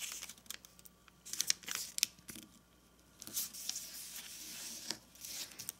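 Origami paper creased and folded by hand, colored side up, giving soft crinkling, rustling and brief sharp crackles that come close, quiet and irregular with short pauses between folds.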